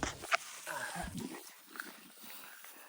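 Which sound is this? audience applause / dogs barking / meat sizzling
dogs barking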